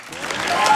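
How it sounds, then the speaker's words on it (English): Audience applause at an Awesome Games Done Quick speedrun marathon event, a steady wash of many hands clapping that swells slightly louder toward the end, with no speech over it. "let's clap some more. Let's do a lot of claps."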